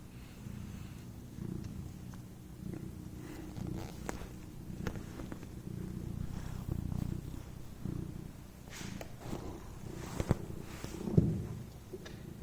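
A cat purrs close up while being petted, a low continuous rumbling with soft rustles and small taps from handling scattered through it.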